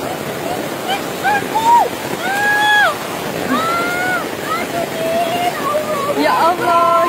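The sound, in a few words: rushing flash flood water in Malang street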